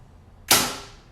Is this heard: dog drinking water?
no